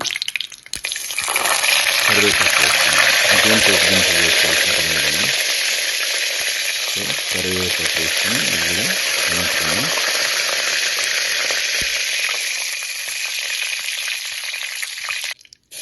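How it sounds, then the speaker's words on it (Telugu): Chopped onions and green chillies sizzle steadily in a hot pan while being sautéed for an egg and chana dal masala curry, a loud continuous frying hiss with intermittent stirring and scraping through most of the stretch. "ఇప్పుడు కట్ చేసి పక్కన పెట్టుకున్న ఉల్లిపాయ ముక్కలు వేసుకుని మగ్గించుకున్నాం"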